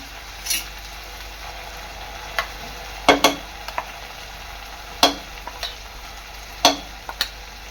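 Masala paste cooking in oil with onion and tomato for a chana and suran curry: a low, steady sizzle broken by a few sharp clinks and scrapes of a spoon stirring the pan, no talk.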